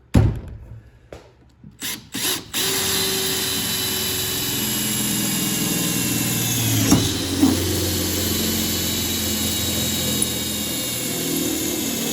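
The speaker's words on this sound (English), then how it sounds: "So I'll get these holes drilled. I think it says use a 5/16 bit." A loud, steady power-drill whine drilling holes with a 1/4-inch bit runs continuously after a few brief bursts at the start, with a slight dip and surge partway through.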